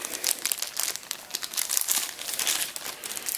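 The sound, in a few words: knife unwrapped from plastic packaging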